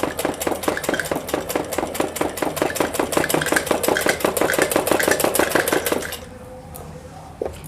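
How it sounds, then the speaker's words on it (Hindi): A sewing machine stitches the fitting seam of a plain suit, running at a fast, even rhythmic clatter for about six seconds before stopping, leaving a faint hum and one small knock. "इस तरह से हम निशान पर ही फिटिंग पर ही सिलाई करते जाएंगे।"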